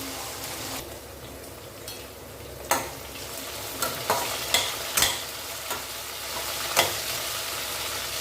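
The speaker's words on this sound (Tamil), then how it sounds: "நல்லா வதக்கி கொடுக்கணும்" Cluster beans for a tomato-free gravy sauté in a pan, giving a steady close sizzle with repeated scraping clicks of a spoon stirring through them. No voices.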